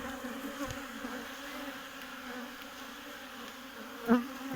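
Steady, dense buzzing of many honey bees at an open hive, a continuous close drone with one louder pass near the end.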